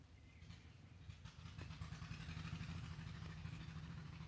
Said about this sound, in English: Sounds like my neighbor way over there just fired up his tractor.